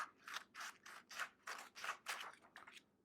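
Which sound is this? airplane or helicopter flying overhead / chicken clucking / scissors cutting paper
scissors cutting paper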